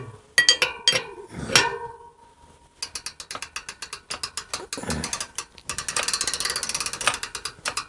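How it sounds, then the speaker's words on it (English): A ratchet wrench working on a Harley-Davidson motorcycle wheel during a wheel bearing change: a couple of metallic clanks, then bursts of rapid, crisp clicking that grow quicker and louder, heard close up with no talking. "love the sound of the ratchet."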